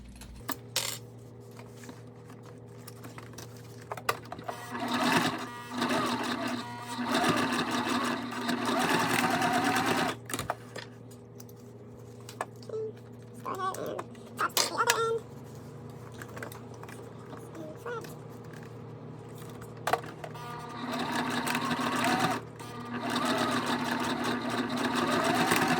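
A sewing machine top stitches straight across fabric on a Wonder Bag, whirring in several runs of varying length separated by quiet gaps and small clicks, under a faint steady hum.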